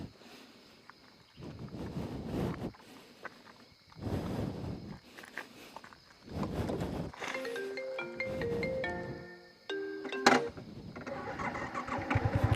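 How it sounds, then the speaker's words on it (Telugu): Repeated attempts to crank a motorbike engine that fails to catch, coming in several bursts of a few seconds each with short gaps between, up close, and a clattering mechanical whirr near the end. "బండి కూడా స్టార్ట్ అవుతలేదు ఏంది ఈ టైంలో"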